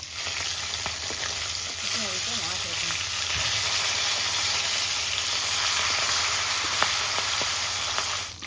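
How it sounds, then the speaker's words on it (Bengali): Pieces of freshly caught silver carp deep frying in oil in a pan, a loud, dense, continuous sizzle close up, with faint background noise and no speech. "মাছ কিন্তু সেই ভাজা হচ্ছে, সেই ভাজা হয়েছে একদম পুরো কড়া ভাজা।"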